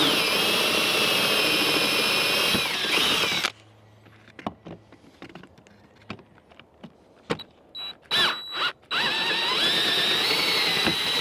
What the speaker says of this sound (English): there's some guide holes right there that we're going to drill through